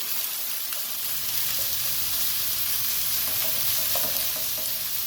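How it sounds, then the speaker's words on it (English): Jumbo shrimp sauté in a hot pan with a steady, close sizzle, broken by a few soft stirring clicks and scrapes near the end, with no voices. "we're gonna saute the shrimp briefly"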